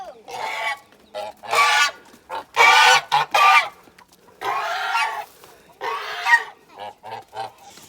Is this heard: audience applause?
no